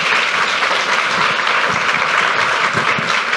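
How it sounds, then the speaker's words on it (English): A conference audience applauds panelists after a discussion on gender equity in the workplace, steady, full-bodied clapping that fills the room at even loudness throughout without breaks. "Let's give a round of applause to our panelists."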